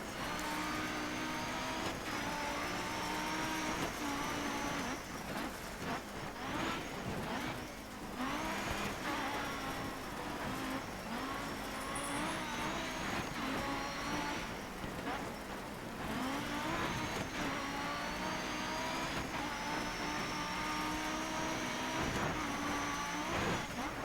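Car in the DiRT 3 rally game rumbles steadily over a rutted, bumpy road, a constant engine drone with rattling jolts throughout; someone talks over it.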